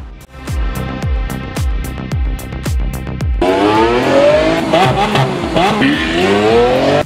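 A Porsche GT3 engine blips sharply several times in quick succession, then revs hard and climbs through the gears as the car pulls away, loud and close.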